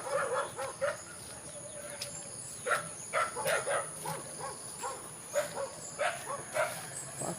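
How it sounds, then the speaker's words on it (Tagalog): A dog barks from across the way in a rural hillside settlement, with repeated distant yelps scattered through the stretch over a noisy outdoor background with faint birds. "May aso pa dun sa kabila."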